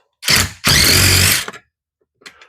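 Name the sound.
power tool removing 9/16 inch seat bolts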